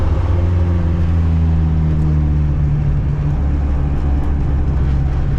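A car backs up after a drag run, a loud continuous low engine drone with steady mechanical hum and no clear breaks.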